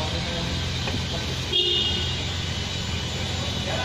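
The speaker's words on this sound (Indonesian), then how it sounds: "Pasti ada klakson ini." A short car horn toot from a 1995 Toyota Kijang with a 5K engine sounds briefly amid steady engine and road noise, with traffic rumbling throughout.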